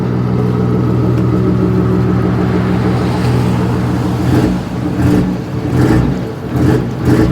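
A car engine idles with a steady rumble, then revs in several short bursts through the exhaust, loud and close.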